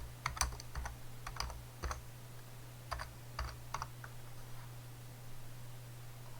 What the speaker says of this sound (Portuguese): Vou digitar aqui o modelo da placa.